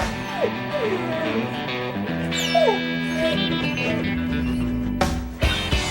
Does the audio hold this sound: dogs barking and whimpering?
yes